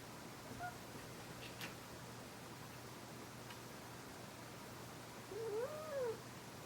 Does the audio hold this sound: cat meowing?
yes